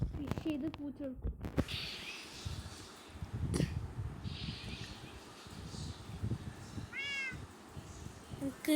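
A cat in the game Minecraft gives a short, bright meow near the end, standing out over soft ambient game noise scattered with clicks and thumps earlier on.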